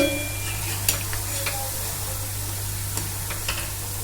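Dhoka, fried lentil cakes, crackle and sizzle in hot oil as a spatula stirs and turns them, with a steady, close frying hiss broken by a few sharp scraping clicks.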